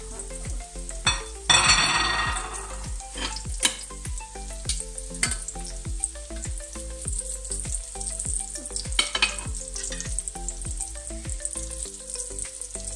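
Meatballs fry steadily in a pan, a continuous close sizzle with occasional clinks and a brief burst of louder spitting near the start, no voices.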